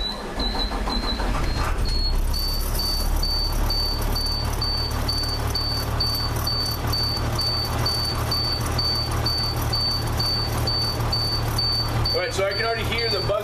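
A steady beeping low air pressure warning buzzer pulses continuously over a loud idling engine rumble of a school bus conversion with air brakes, with a person talking underneath near the end.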